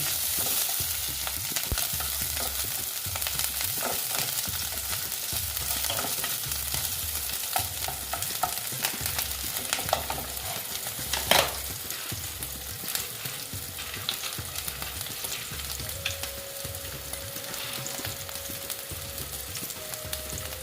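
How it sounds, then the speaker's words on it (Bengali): Green chillies sizzle and fry in a pan for paneer butter masala while being stirred, a steady close crackle with scraping strokes of the spoon throughout and no voices. "তারপরে কাঁচা লঙ্কা দিয়ে দিলাম দিয়ে একটু নেড়ে চেড়ে নিচ্ছি"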